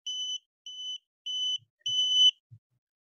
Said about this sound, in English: as you can hear from the beeping